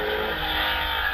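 Porsche cars racing at the Prescott hillclimb, heard as a steady, loud engine roar that holds throughout the short stretch, with no voices over it.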